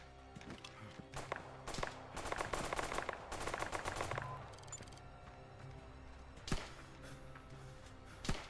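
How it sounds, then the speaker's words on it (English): Gunfire crackles in a video game, rapid bursts of shots in quick succession for several seconds, then a lull with a few isolated sharp cracks, moderately distant and not loud. "Someone's shooting at me?"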